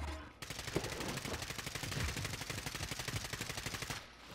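Rapid bursts of automatic gunfire from another team at a park garage in a multiplayer shooter video game, a dense continuous rattle lasting several seconds at moderate distance, cutting off abruptly at the end.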